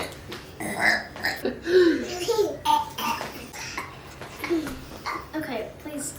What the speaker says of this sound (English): Every time I take a sip, I burp.